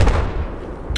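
A loud gunshot booms close by in Battlefield 4, opening with a heavy low thump and then fading through a short rumbling tail, with a brief crack near the end.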